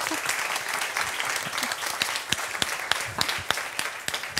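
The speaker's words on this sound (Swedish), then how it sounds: "En varm applåd till er." An audience at a Swedish public forum on Öresund growth applauds warmly, dense sustained clapping with sharper individual claps standing out, steady throughout at moderate distance.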